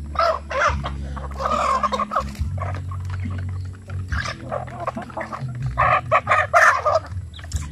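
Native chickens and roosters on a small farm cluck and crow loudly and close together, overlapping repeatedly over a low steady hum.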